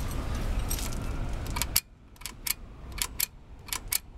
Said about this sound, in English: I'm going to click the shifter again